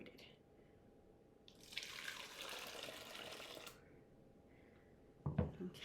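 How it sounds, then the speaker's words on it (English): Whey from ricotta cheese curds drains through a colander in a steady, moderately close liquid rush that lasts a couple of seconds, followed by a brief louder splash. "I'm just gonna pour this into my colander"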